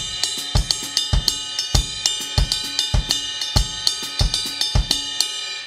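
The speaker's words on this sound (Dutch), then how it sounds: "ik bijvoorbeeld mijn bassdrum daar in drieën doorheen laten gaan" Drum kit groove played live, with the bass drum in triplets under steady bright hi-hat and cymbal hits and regular snare accents, a loud, even and busy pattern.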